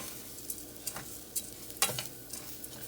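Onion, garlic and cumin seasoning sizzle in a pan for Spanish rice, with a steady frying hiss broken by several sharp scraping stirs as they are mixed in; no one speaks.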